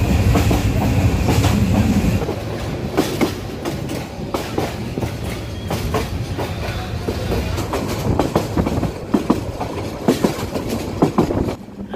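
Jogajog passenger train running from Chittagong to Sylhet, heard as a steady loud rumble with rhythmic clickety-clack from the wheels over rail joints throughout, recorded from on board.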